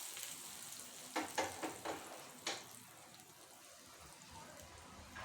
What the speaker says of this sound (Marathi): पाच ते सहा कढीपत्त्याची पानं घालणार आहे फोडणीसाठी